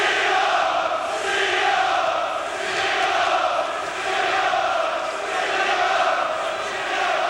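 Boxing arena crowd roaring and chanting for British fighter Tony Sibson in his bout against Frank Tate, a steady, swelling mass of voices that rises and falls in waves.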